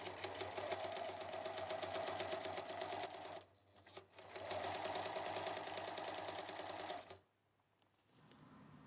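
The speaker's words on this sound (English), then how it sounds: "And then that is folded over again and sewn down all the way around with a straight stitch." A sewing machine runs a straight stitch along a folded kite hem, a steady, close mechanical whir in two long runs broken by a short pause, then stopping into quiet handling noise.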